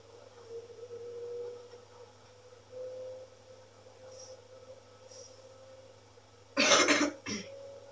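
A person coughs in a short, loud burst near the end, preceded by a low steady hum and faint sniffly breaths inside a car on a long drive.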